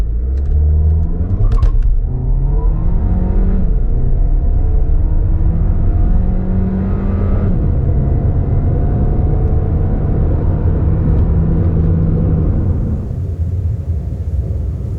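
Cabin of a moving 2021 Volkswagen Tiguan Allspace 1.4 TSI seven-seat SUV, filled with a steady low rumble of wind and road noise. A smooth engine hum rises and falls gently, with no talking.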